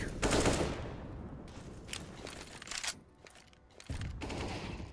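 Counter-Strike gunfire on the Vertigo map, including an AWP sniper shot, crackles in sharp bursts and rapid volleys at moderate loudness, with brief gaps between the shots.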